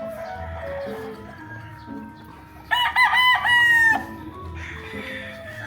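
A rooster crows loudly in a drawn-out call at a gamefowl farm, amid other background birds and faint clucking, with nearby chickens calling before and after.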